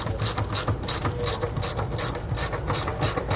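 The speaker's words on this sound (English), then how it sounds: "grab that 16mm socket and tighten it up all the way" A ratchet with a 16mm socket tightens a bolt on SumoSprings helper spring brackets during an install on a 2004 Fleetwood, giving a steady run of quick, close mechanical clicks with no talking.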